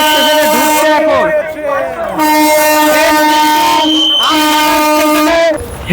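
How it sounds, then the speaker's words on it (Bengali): A Krishnanagar local train pulls into Amghata station amid a large crowd, its horn sounding in long sustained blasts over continuous loud rumble and crowd noise, with voices throughout. "এই যে ট্রেনটি আসছে এটা কিন্তু আমঘাটা স্টেশনে ঢুকছে এখন"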